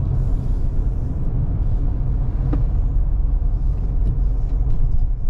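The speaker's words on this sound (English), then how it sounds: "See how she does coming off the highway on the ramp." A 2022 Kia Sorento X-Line S SUV brakes while exiting a highway onto a ramp, heard from inside the cabin as a steady loud road rumble and tire roar, with a faint brief squeal midway.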